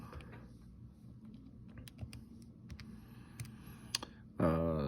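Numbers being keyed into a calculator keypad, giving a run of light, irregular plastic clicks and taps over a soft background hum, ending in a sudden louder burst of noise.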